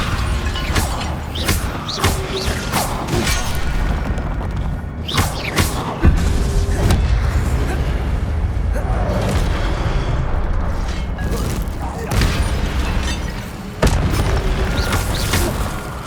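Incendio fire spell cast repeatedly in the video game Hogwarts Legacy, a series of loud booming whooshes and thuds over continuous game effects and ambience.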